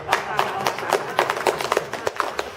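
Inside a church, a congregation claps their hands in quick uneven bursts while laughing together, the claps and laughter mixed up close.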